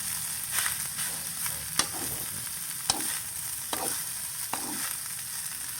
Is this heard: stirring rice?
yes